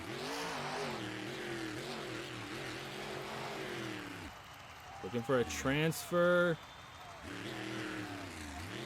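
Monster Mutt's monster truck engine roars steadily with shifting revs through a video game race, partly dropping away midway as brief bursts and a spoken voice cut in before the engine drone returns.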